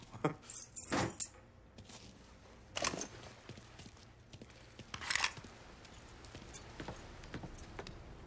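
Keys jangle in a Mafia 3 scene, a few short metallic bursts of clinking near the start and again around the middle, separated by quieter stretches of low background ambience with no talking.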